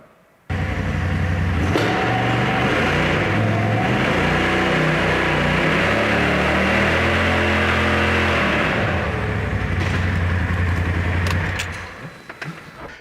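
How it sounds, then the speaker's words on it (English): An engine with a belt drive clutch revs up hard while the brake is held in high gear, a sustained loud roar after a sudden start, holding steady before dropping away near the end. "start this engine, hold the brake pedal, shift this thing to high and rev it up"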